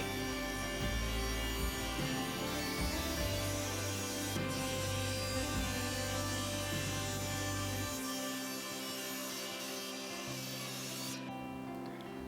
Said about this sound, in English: Then back over at the table saw, using a basic tapering jig, I began to cut the two faces that are required to make the taper on this leg.